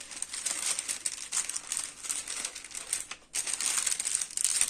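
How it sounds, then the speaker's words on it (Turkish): Baking paper crinkles and rustles close up as it is pressed over cookie dough and the dough is rolled out, with continuous crisp crackling and one brief pause, no voices. "Hamuru ikiye böldük ve yağlı kağıdın üstüne kapatıp açıyoruz."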